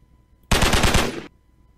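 Rapid burst of automatic gunfire shooting zombies in the video game Dark Illusions, about seven close, loud shots in quick rhythm lasting under a second, with no talk over it.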